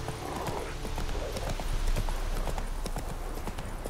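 Rapid hoofbeats of a galloping horse in The Witcher 3: Wild Hunt pound in a quick, steady rhythm, close and clear over a low background hum.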